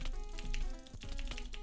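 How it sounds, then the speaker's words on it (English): Typewriter keys pressed as a keyboard for Minecraft Bedrock PvP, a quick run of sharp mechanical clacks and thuds up close, several strikes in an uneven rapid rhythm. "no shot I'm W tapping with a typewriter."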